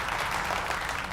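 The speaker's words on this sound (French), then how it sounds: "Applaudissez-la, on a une gagnante." A crowd applauds a winner, a dense continuous wash of clapping without a break.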